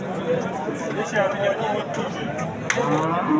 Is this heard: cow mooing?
yes